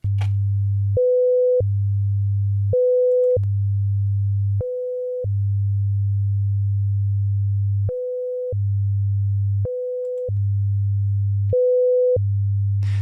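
A steady 500 Hz test tone plays with dynamic EQ that turns it down slightly, cycling through gated bursts over a constant low drone with short pauses, alone and steady throughout.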